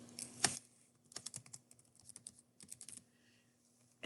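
Quiet typing on a computer keyboard, a burst of rapid clicking clacks followed by scattered keystrokes, close up and alone with a steady low hum underneath.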